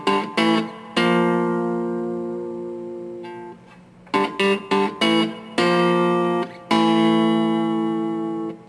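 Electric guitar playing a bluesy lick in the style of the Law and Order theme, with sustained bent notes and short repeated phrases rising and falling, played alone, loud and close.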